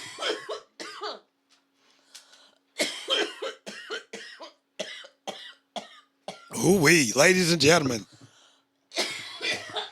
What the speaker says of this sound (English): I have never seen her cough like that.